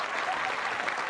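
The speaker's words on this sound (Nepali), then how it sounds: "मेरो लागि जोरदार ताली प्लिज" Dense applause from a TV singing-competition studio audience, a short, steady burst of clapping that holds at an even loudness throughout.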